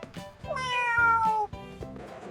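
At an airport security checkpoint, a cat lets out a long, drawn-out meow, loud and close, followed by a shorter one.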